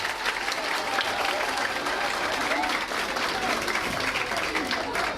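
A crowd at a school excellence ceremony applauds the founding director, steady dense clapping throughout with voices mixed in.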